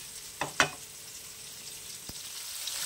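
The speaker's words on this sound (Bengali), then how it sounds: "মাছগুলো ভাজা হয়ে গেছে" Pieces of rohu and katla fish frying in hot oil give a faint, steady sizzle, broken by a couple of sharp spatters and a soft clink near the start.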